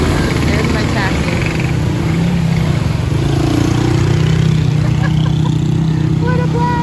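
Engine drone from a ridden motor taxi runs steady and loud throughout, with a rising and falling hum, while a voice talks over it.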